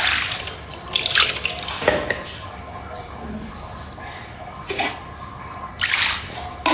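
Water is poured in a home setting, heard as intermittent splashy gushes and drips in several short bursts over a low, busy background.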